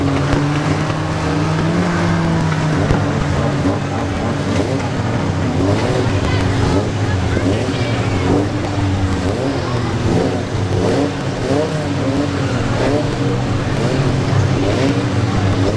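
Caravan race cars roar around the Arena Essex track, a loud, steady wall of engines with overlapping revs and droning tones from several vehicles passing, continuous throughout.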